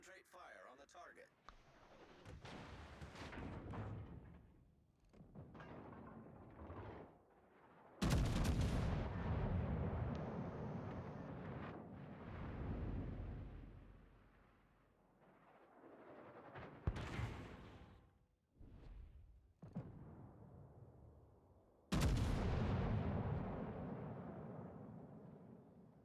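Naval guns firing in World of Warships, with several heavy booming salvos that erupt loudly and decay into long rumbling tails, separated by quieter gaps.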